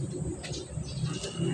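A stray pigeon coos softly nearby, with a few short, low, throaty coos over quiet background noise.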